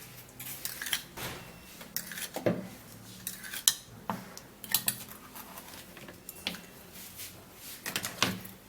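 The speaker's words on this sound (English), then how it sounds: "So we're gonna be putting in 1 tablespoon of baking soda, and then we'll have to mix that up." Spoon clinking against a small bowl while stirring a baking soda paste for teeth whitening, a series of light, irregular metallic taps and scrapes close by, with no talking.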